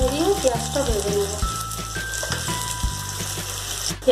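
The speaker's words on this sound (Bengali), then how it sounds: "সামান্য একটু নুন দিয়ে পেঁয়াজটা ভেজে নেব।" Chopped onion fried with a little salt and black cumin gives a continuous close sizzle, partly masked by tuneful background music that plays throughout.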